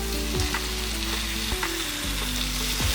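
Chicken pieces frying in a pan with masala, a steady close sizzle broken by several sharp scraping strokes of a spoon stirring, with no voices.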